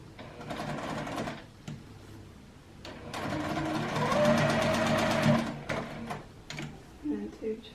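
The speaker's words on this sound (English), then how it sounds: "I'm going to do just one more line of stitching, I think, right here" A sewing machine stitching a quilted pincushion, short mechanical bursts at first and then a longer steady run of rapid needle clatter, close and moderately loud, with brief pauses between.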